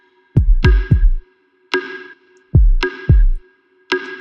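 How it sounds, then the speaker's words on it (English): A dry drum pattern plays alone: punchy kicks and sharp snare hits in a loose, syncopated groove with short gaps between beats. "Without the phaser, it sounds like this."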